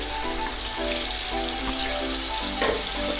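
Two medium chopped onions frying in hot oil for a vegetable matar pulao, giving a steady, close hissing sizzle that continues without pause and has no talk over it.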